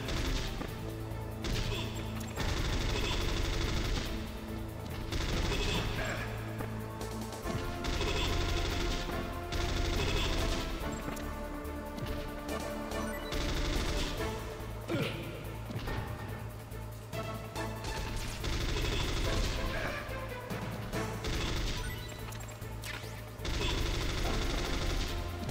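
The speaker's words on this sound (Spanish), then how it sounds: "¿Cuántos disparos necesitas?" Gunfire in the video game Metal Gear Solid, dense bursts of shots and crashes repeating over a loud, continuous game soundtrack with no talking.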